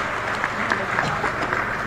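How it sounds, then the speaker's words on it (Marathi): An audience at a government housing distribution event applauds the chief minister with a steady, dense burst of clapping from a crowd, indoors and fairly close, with no voices over it. "माननीय मुख्यमंत्र्यांच्या प्रती जोरदार टाळ्या वाजवून आपण कृतज्ञता व्यक्त करूया"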